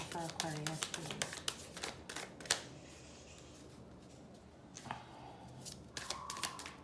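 A deck of tarot cards is shuffled by hand in short crisp riffles and taps, close and fairly quiet, with soft pauses between bursts.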